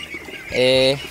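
Pureline ducks squabble over feed on a farm, with a short, close, nasal quack and nearby fluttering; a person speaks just before it.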